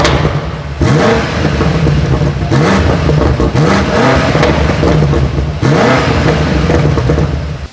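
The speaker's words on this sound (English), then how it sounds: "we'll give you guys some revs, show you guys how the car sounds" A stock BMW F90 M5 in Sport Plus revs loudly and up close. The engine makes three sharp throttle blips that each climb and then drop back to a rumbling idle.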